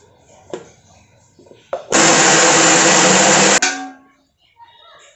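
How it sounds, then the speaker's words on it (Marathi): A mixer grinder roars loudly for about two seconds, grinding leftover chapati pieces steadily, then cuts off abruptly; quiet clatter before and after. "चपातीचे तुकडे करून आपण मिक्सरला बारीक करून घेऊयात अगोदर"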